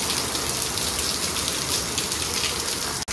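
Heavy monsoon rain pours down steadily in a broad, dense hiss of drops hitting surfaces, continuous and close with no speech over it.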